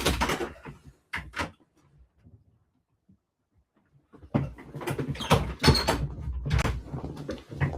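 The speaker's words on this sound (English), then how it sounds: "My cat's scratching at the door." A cat scratching at an indoor door, heard in bursts of rough scraping and rattling, a short pair at first, then a longer busy run after a quiet gap, fairly close and alone.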